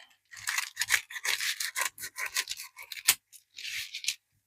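Scissors cutting crepe paper into strips for a giant paper rose, a close series of crisp snipping and rustling cuts in irregular bursts with short pauses between them.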